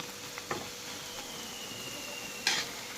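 Thai-style omelette frying slowly in oil over low heat, a soft continuous sizzle close by with a few light pan taps and one brief louder crackle near the end.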